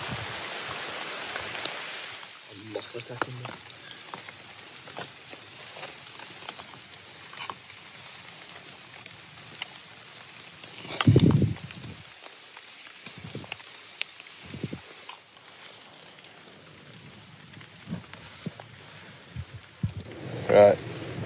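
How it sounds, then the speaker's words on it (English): Heavy rain falling in woodland at a tarp wild camp beneath a large sycamore tree, a steady soft patter with scattered drops and occasional louder thuds and rustles nearby, and voices talking at times. "Rain's coming down heavy now."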